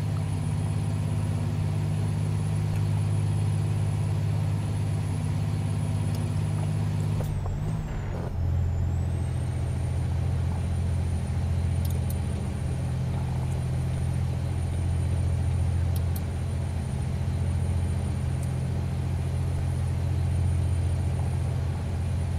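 A truck engine drones steadily with low rumbling tones while driving in American Truck Simulator, loud and continuous, with a sharp hissing air-brake burst partway through.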